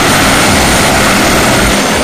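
Rescue helicopter flying over a disaster zone in Uttarakhand, a loud, steady broadband rotor and engine roar that fills the whole clip without a break and with no voices.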